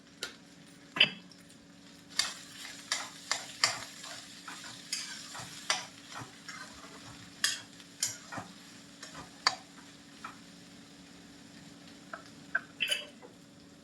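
Okra dusted with turmeric being stirred and fried in a pan, with scattered spatula scrapes and taps against the metal over a steady low sizzle, close and moderately quiet, no talking.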